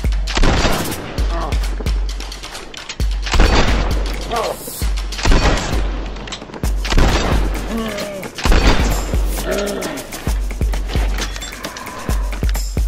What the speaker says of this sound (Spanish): Vamos a ver con cuántos disparos Blade cae abatido.